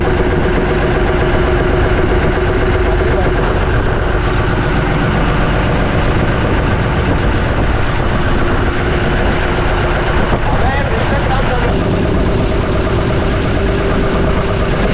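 A motor boat engine drones steadily and loudly throughout a sightseeing ride on the lake at Tapola, Maharashtra, with a constant low hum and a breezy rush, and no voices.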